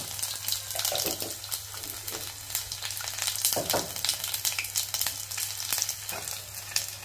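Garlic and cumin seeds sizzle steadily in hot oil in a pan for a prawn and chana dal curry, a dense close crackle with occasional stirring scrapes and no talking.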